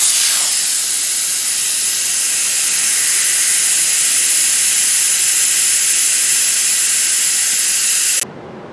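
Air hisses steadily and loudly out of a tire through the open valve stem after its Schrader valve is removed, holding a constant rush for about eight seconds before dropping off abruptly.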